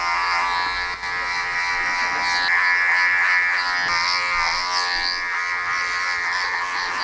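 Electric hair clippers fitted with a number 2 guard cut hair during a taper haircut, a steady close buzz with a strong constant hum that shifts slightly in pitch as the blade moves through the hair.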